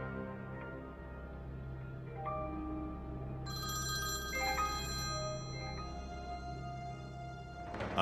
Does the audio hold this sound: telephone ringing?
yes